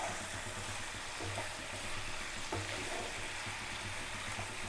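Spice masala sautéing with vegetables in a pan for South Indian tomato rice, a soft continuous sizzle and bubbling hiss with light stirring, fairly quiet and without talk.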